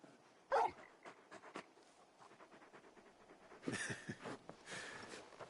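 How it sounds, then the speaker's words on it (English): Torgal, the wolf-dog companion in Final Fantasy XVI, makes a brief bark or yip, then soft panting and shuffling, quiet and close, swelling into heavier breathy bursts near the end. "You're just a big puppy, aren't you? A very big puppy."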